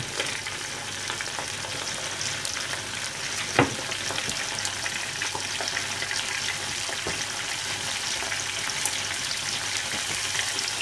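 Cabbage kakiage fritters fry in hot oil with a dense, continuous crackling sizzle, steady and close, with occasional sharper pops and no voices.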